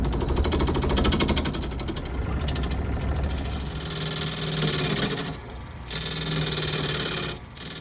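A small benchtop wood lathe spins a decent-sized piece of wood with a continuous motor hum and a rough, chattering cutting noise. The sound is close and steady, with brief dips where the tool lifts off.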